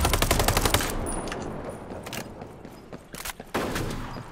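A mounted gun fires in the video game Ghost Recon Breakpoint, a loud rapid automatic burst at first, then scattered further shots and bursts, with little talk.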